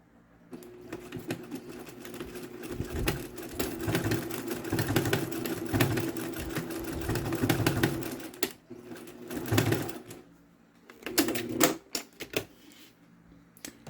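A sewing machine stitches a double-sided zippered bag in fast rattling bursts, running steadily for several seconds, pausing, then starting again in shorter runs, loud and close with no talking.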